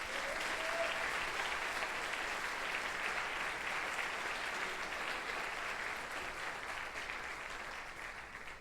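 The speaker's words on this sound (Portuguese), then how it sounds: "Dê um forte aplauso a Jesus." A church congregation claps loudly and steadily throughout a worship service, a dense, sustained wash of applause that tapers off slightly toward the end.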